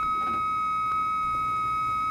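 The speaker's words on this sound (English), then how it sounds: "Your coupler responds with its own tone when you are online" An acoustic coupler modem answers with its own steady tone as it goes online, a constant high electronic pitch held throughout with a brief extra blip partway, moderately quiet and with no voices.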